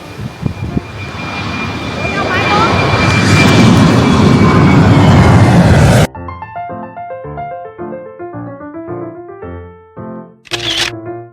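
A fixed-wing airplane roars overhead near Khao Lak, Thailand, building to a loud, broad engine rush before cutting off abruptly, followed by a music track and a brief burst of noise.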